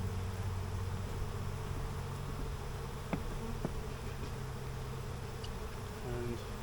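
Bees swarm around burr comb in an opened hive, a dense continuous buzzing drone, steady and fairly close, with a few small clicks of handling.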